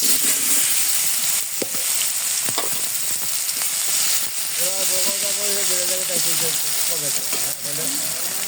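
Eggplant pieces sizzle and spatter in hot oil in a home kitchen, a loud steady frying hiss with occasional stirring clatter, while voices talk over it.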